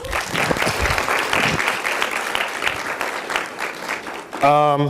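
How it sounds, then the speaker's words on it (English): An audience at a Women's History Month event breaks into loud, sustained applause, dense clapping throughout, ending as a voice starts speaking. "So again, give Ms. Hill a round of applause"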